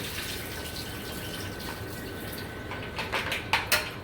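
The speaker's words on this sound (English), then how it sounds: "Drain out this water." Water poured off a bowl of broccoli in a kitchen, a steady low rush building into a few louder splashing gushes near the end, with no talking.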